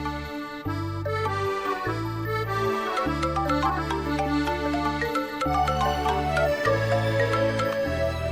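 A phone ringtone plays late at night: a steady electronic melody with repeating tonal phrases and regular low pulses, continuous and moderately loud, no talking.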